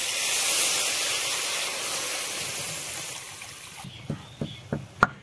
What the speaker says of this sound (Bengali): এখন ধরিয়ে দেবো জল